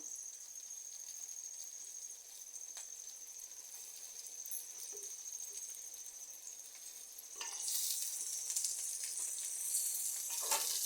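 Cleaned boddengulu going into a pan for a tribal curry, a steady soft sizzle and frying hiss that grows louder and busier partway through, with faint clinks and no talking.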